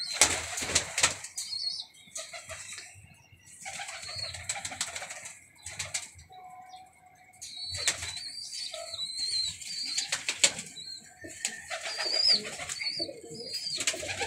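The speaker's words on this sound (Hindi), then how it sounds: "ये तमाम कबूतर हैं जितने भी आपके सामने" A flock of pigeons kept for sale coos softly and flaps wings in bursts, close and lively, with rustling and fluttering rising and falling throughout.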